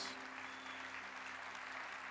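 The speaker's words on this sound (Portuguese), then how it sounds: "aplaude mais forte, que Ele é digno" A church congregation applauds in a faint, continuous patter of many hands, heard from a distance under a low steady hum.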